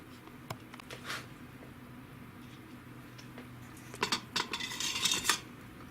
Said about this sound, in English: Now I'm going to sit there and go grab a canning lid and a canning ring.